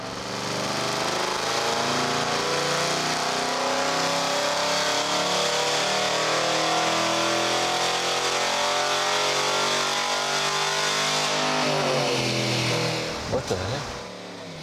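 A car engine revs hard on a dyno during a horsepower test, a loud sustained wail climbing in pitch for about twelve seconds before dropping away as the throttle closes, then a brief burble.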